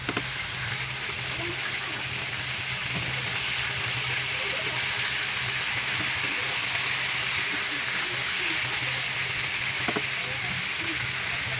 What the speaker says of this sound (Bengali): চিকেনগুলোকে সময় নিয়ে ভাজতে হবে, মিডিয়াম টু লো হিটে